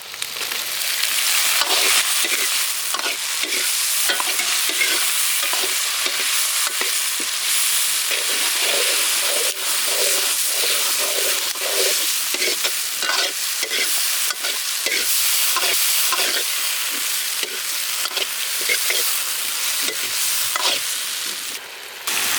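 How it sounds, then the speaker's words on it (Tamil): Native country tomatoes sizzle and fry steadily in a pan of mutton bone kulambu base, with repeated scraping stirs of a spoon throughout, loud and close with no talking. "அடுத்து வந்து நம்ம நாட்டு தக்காளி சேர்த்துக்கலாம்."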